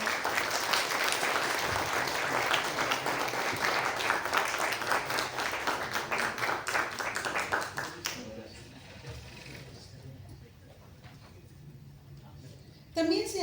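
Loud applause from an audience at a Mexican award ceremony, steady dense clapping for about eight seconds before fading into a quiet room, with a brief sound at the end.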